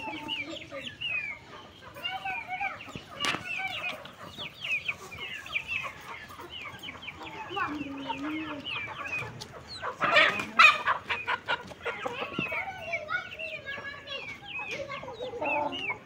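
A hen clucks in a run of short, irregular calls over a quiet background, with a louder burst of squawking partway through.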